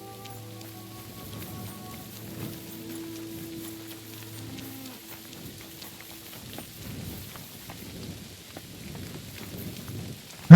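Rain falling in Kingdom Come Deliverance 2, a soft steady patter with scattered drop ticks that continues throughout, along with faint low lowing and background tones, and no talk.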